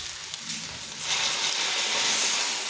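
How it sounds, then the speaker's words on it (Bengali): Hot water hits a sizzling pan of khichuri with rice, potatoes and green chilies, turning a close frying crackle into a louder rushing hiss over a couple of seconds. "এখন পানি দিলাম পানি দিয়া"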